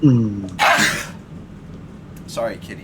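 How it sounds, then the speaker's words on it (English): A single sharp sneeze bursts out near the microphone, followed shortly by a brief spoken apology. "I just sneezed all over you."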